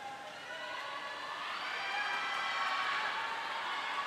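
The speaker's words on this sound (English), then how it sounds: "Everyone's cheering, pushing." A swim meet crowd of Houston and Tulane supporters cheers steadily through a close final lap, a dense, sustained roar of voices that swells slightly and stays loud throughout.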